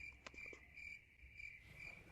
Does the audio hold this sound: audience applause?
no